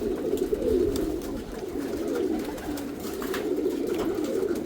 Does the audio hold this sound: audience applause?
no